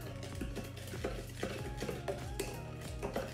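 A spoon stirs taro milk tea with green tea in a cup, steady repeated clinking and scraping strokes in a quick rhythm, close and moderately quiet, with no talk.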